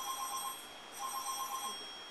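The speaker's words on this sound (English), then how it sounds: "the phone's ringing" Telephone ringing in two electronic trills separated by a short pause, clear and moderately close, with no voices over it.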